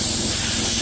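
A strong blast of air spray used on people leaving a greenhouse at a flower park, heard as a loud, steady, close hiss that fills the whole moment without pause.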